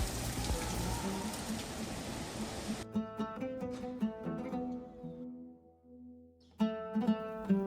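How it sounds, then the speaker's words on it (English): Heavy rain pours down in Larache, Morocco as a dense hiss for about three seconds, then cuts abruptly to plucked, melodic music. "I reached Larash, some 20 minutes before the heavy rain started."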